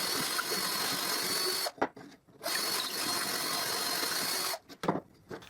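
A power drill enlarges holes in a part, whirring loudly and steadily in two long bursts broken by brief pauses, with no voices.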